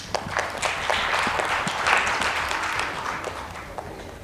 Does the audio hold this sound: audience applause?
yes